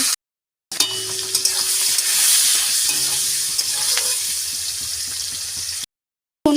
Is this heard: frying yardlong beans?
yes